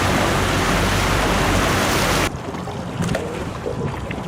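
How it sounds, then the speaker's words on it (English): Boat powered by twin Mercury 400R racing outboard engines, a loud roaring rush of engine and water that cuts off abruptly halfway, leaving quieter wind and water noise. "Powered by twin Mercury 400R Racing Outboards."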